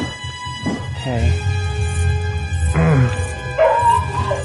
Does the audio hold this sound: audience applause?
no